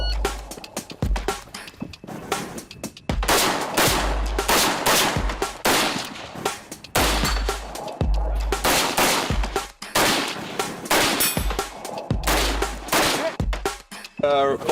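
A rifle fitted with a muzzle brake fires rapid strings of loud, sharp shots at steel plates on a shooting course, the cracks coming in quick bursts with brief pauses between strings.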